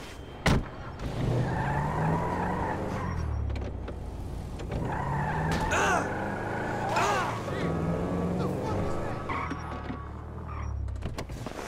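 Car engine and tyres from a van driving in Grand Theft Auto V, a steady motor drone with brief screeching swells and a sharp knock near the start, with voices talking over it.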